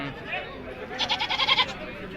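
A goat bleats in a short wavering burst amid chatter and background voices at a live goat market.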